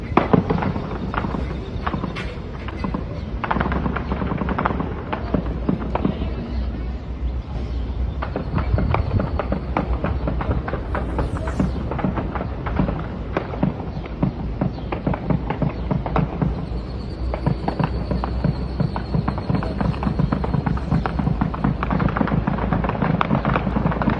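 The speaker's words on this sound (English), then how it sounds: "the gunshots going on in broad daylight" Rapid bursts of sharp popping gunshots crackle repeatedly in the distance in broad daylight in Matamoros, irregular volleys continuing throughout with a low background hum and no talking.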